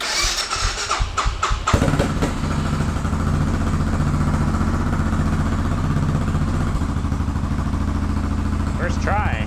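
A Suzuki S40 motorcycle engine, in neutral, cranks with a few sputtering clicks, then catches and settles into a loud, steady rumbling idle that runs throughout.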